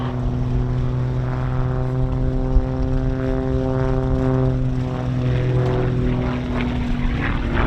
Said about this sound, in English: He's running on a modern Lycoming engine as opposed to the original Hirth